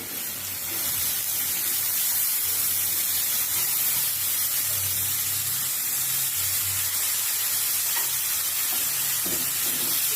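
Sprouted moth beans sautéing in spiced oil give a steady, loud sizzle and hiss that runs unbroken for about ten seconds, with faint stirring and no talking.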